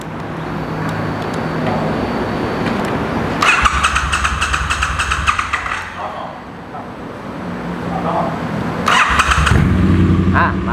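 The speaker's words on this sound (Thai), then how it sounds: "ฟังเสียงท่อคันนี้กัน" Triumph Bonneville T100 motorcycle from 2019, fitted with a Thai-made aftermarket exhaust, idling and then revved in two strong bursts, each rising fast and dropping back quickly to a steady idle, close to the microphone.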